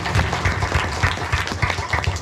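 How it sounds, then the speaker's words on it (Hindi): An audience at a foundation day program claps loudly for a teacher, a thick, continuous burst of many hands over a low room rumble, lasting a couple of seconds without speech. "एक बार इनके लिए भी जोरदार ताली बजा दें"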